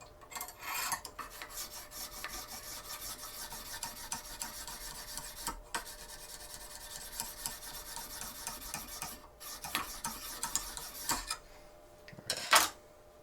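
A knife edge is drawn repeatedly across a Lansky sharpener stone in steady rasping strokes, a close, scratchy filing sound with short pauses between passes, ending with a brief metallic ring.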